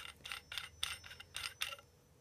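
CNC-machined aluminium pommel of an Obi-Wan Kenobi lightsaber prop being unscrewed: a quiet close series of about six short metallic scraping clicks in an even rhythm, then stillness.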